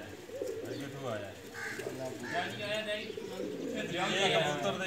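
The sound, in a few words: pigeons cooing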